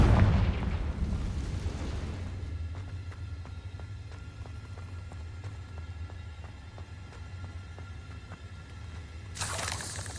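Confringo blasting spell explosions in the game Hogwarts Legacy: a heavy, booming burst opens the clip, then a rumbling bed of low explosion noise carries a rapid series of sharp crackling hits, and a second bright blast comes near the end.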